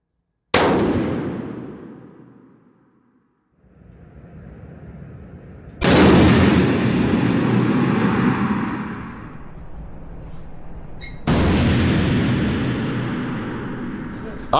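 Three heavy Barrett M107A1 .50 caliber rifle shots fired outdoors, each a sharp loud blast followed by a long ringing decay, with a metallic clang from a steel target; faint voices murmur between shots.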